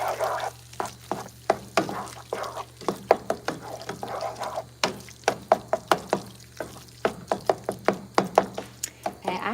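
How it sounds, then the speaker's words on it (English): A spoon stirs beans in water in a pot, making a quick series of knocking, scraping strokes against the pot sides with soft watery swishes between them, close up and without speech. "So we'll just stir it around."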